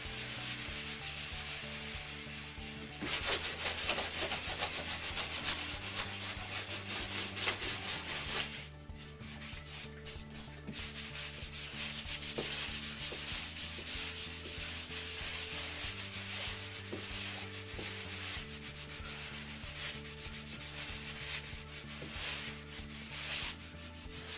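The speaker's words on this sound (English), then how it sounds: "then we can continue to rub and shape that" Steady hand rubbing and sanding on a wet concrete countertop coat, a continuous gritty scraping that shifts rhythm with the strokes, close and alone without talk.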